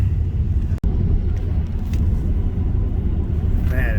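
A car drives through war-damaged Irpin in Ukraine, a continuous loud engine and road rumble heard from inside, with a brief dropout near the start.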